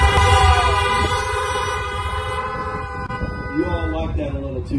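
Car horns honk together in a loud, overlapping chorus at a drive-in church service, with sustained tones from several parked cars blaring at once and a crowd voice faintly mixed in.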